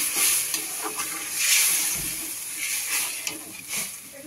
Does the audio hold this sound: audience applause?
no